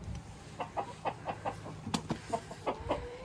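Farm chickens cluck in a steady, rhythmic series of short calls, close by and moderately loud, with a few sharper squawks mixed in.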